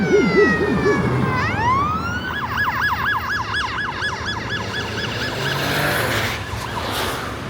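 A police siren passes close by, its wail shifting into a rapid yelp over steady street traffic, then fading away.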